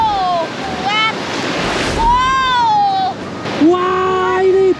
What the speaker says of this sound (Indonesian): Wah, ini besar sekali ombaknya.